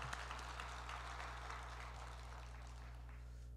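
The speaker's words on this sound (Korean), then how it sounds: "더 크게 박수로 영광을 올려드립니다." Christmas Day congregation applause in a Korean church service, a steady, fairly quiet wash of many hands clapping together with no clear breaks, heard from a distance in a reverberant sanctuary.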